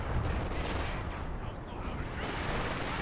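Artillery barrage and gunfire in Company of Heroes 2, with mortar fire in a battle around a church, a dense continuous rumble of explosions and shots throughout, loud and unbroken.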